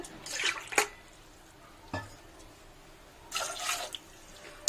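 Water poured from a tumbler into a pot of soaked chickpeas, heard as two short splashing bursts separated by a faint drip, close and fairly quiet with no talking.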